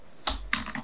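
Keys on a Windows 10 computer keyboard are struck in a quick burst, about three or four crisp, close clicks with no voices.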